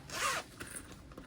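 Zipper on a slip pocket of a vinyl pool tote bag, fitted with zipper tape, pulled in one quick rasping stroke, close and clear, followed by faint handling sounds.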